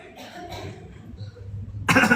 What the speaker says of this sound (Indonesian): Banyak batuk juga ya.